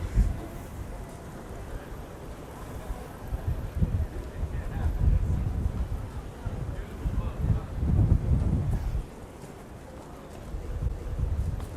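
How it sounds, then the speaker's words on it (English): Gusty wind buffets the microphone on the open deck of a Benetti 108 tri-deck super yacht, a low rumbling roar that swells and eases in broad waves, loudest around the middle, with no clear speech. "I'm going to try to turn my back to this wind"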